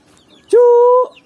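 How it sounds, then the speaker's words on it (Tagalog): A chicken on a mango farm in Batangas gives one short, loud, close call lasting about half a second, against a quiet background. "Ito sa likod maraming manok."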